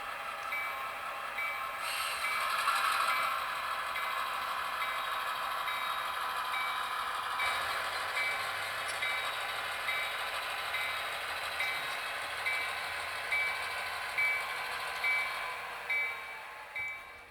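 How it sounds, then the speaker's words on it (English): A model train locomotive fires up and rolls along the layout to couple onto rail cars, giving a steady mechanical hum with a repeating electronic tone and a few soft clunks near the end, no talk. "I'm going to fire up my locomotive, move over to the train where the rail cars are, hook onto them"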